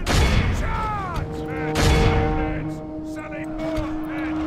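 Maulers fire in Third Age: Total War (DaC v3) during a battle against wargs, sending out booming launches amid a busy battlefield din, with someone talking over the action throughout.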